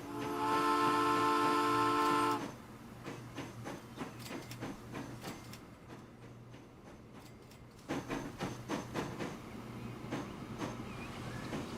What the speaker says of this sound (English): Looks like the train station's working well.